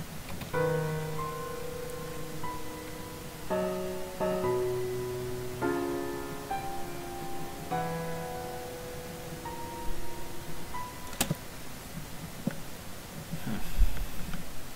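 Sustained chords ring out one after another on a keyed or stringed instrument, ending on a bright major flat-five voicing with no voices present.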